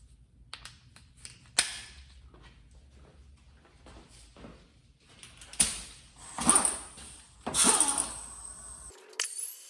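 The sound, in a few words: air ratchet with extension removing spark plugs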